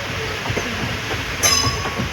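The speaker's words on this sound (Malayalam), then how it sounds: "വില്ലുപുരത്ത് നിന്ന് ഇപ്പോൾ ട്രെയിൻ എടുത്തതേ ഉള്ളൂ." A passenger train pulling out of Villupuram towards Puducherry, engine shifted to the rear, rolls along the track with a steady low rumble and a brief high wheel squeal partway through.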